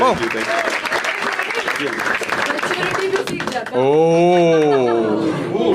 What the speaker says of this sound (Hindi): बट एक बार बसीर के लिए ताली बजा सब लोग।